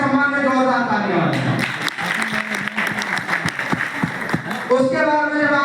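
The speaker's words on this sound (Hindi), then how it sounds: "इनके सबके सम्मान में जोरदार तालियां।" Loud, sustained clapping from a crowd fills the middle of the clip, with a voice speaking before and after it.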